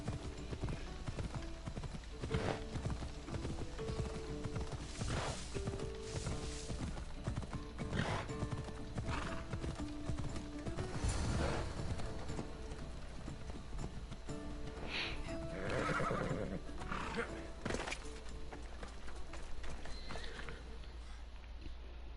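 In the video game Assassin's Creed Odyssey, a horse keeps up a steady clip-clop of hooves over a constant background bed, with occasional neighs and snorts and brief speech.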